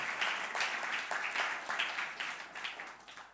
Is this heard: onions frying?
no